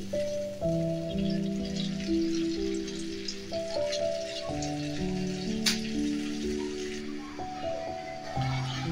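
Egg curry gravy bubbling and sizzling in a covered pan on the stove, a steady crackling simmer under a faint tonal hum, continuous for several seconds.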